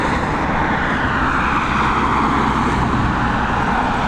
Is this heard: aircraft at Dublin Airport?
yes